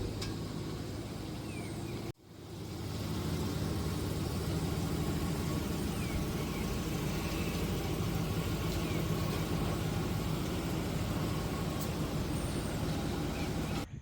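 A pickup truck engine idles steadily while backing into a home garage, a low continuous rumble that drops out briefly near the start before resuming and holding at a constant level.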